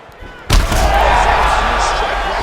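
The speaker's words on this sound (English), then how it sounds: "Huge strike right there" A heavy strike impact in the UFC 5 video game during a Kimbo Slice versus Ciryl Gane fight, a single sharp, booming thud followed by a sustained roar of crowd and ambience.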